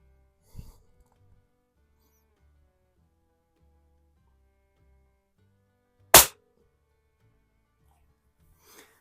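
Gamo 126 single-stroke pneumatic target rifle firing in a garage, one sharp, loud crack standing alone in near silence, with a fainter snap earlier and a light tap at the end.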